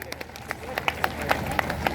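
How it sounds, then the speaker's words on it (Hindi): Audience at a gathering claps in a fairly close, moderately loud patter, with distinct individual claps standing out over a background of crowd murmur. "एक बार इनके लिए जोरदार तालियां।"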